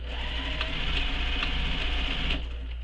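A sewing machine stitches fabric for a backpack, running in a fast, even mechanical whir with faint rhythmic ticks, close and continuous.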